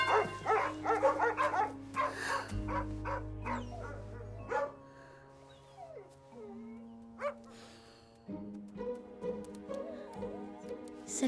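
A dog in a Christmas family film gives short woofs, yips and whimpers in bursts, close by, over a low humming tone and scattered ticks and clatter, with little talk.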